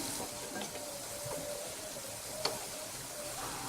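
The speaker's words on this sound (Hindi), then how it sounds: "इसी में बना के शेप इसमें तेल में छोड़ दूँगी। इसे हमें लो फ्लेम पे ही क्रिस्पी होने तक पकाना है।" Rice murukku dough fries in oil on a low flame, a faint, soft steady sizzle with a few light clicks and one brief tap, no voices.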